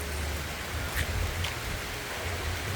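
Steady rain falls in a rainforest in Cote d'Ivoire, a soft continuous hiss with a few faint, brief louder patters, and no voices.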